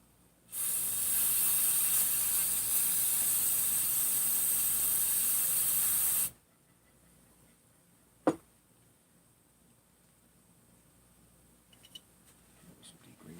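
Degreaser sprayed from an aerosol onto a Husqvarna 372XP chainsaw: a loud, close, steady hiss lasting about six seconds, then quiet with a single sharp click and faint handling noises.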